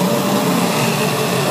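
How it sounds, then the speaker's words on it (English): A hairdryer blows air into a waste oil heater, giving a steady, close, broadband whooshing roar that holds at an even level without pause. "And I'm going to switch on this hairdryer."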